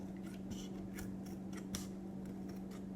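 Fabric scissors snip through pre-marked cardboard for a DIY wall hanging, a series of crisp, close cutting crunches at a fairly regular rhythm over a steady low background hum.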